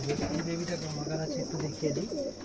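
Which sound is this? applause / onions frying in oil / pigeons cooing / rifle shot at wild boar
pigeons cooing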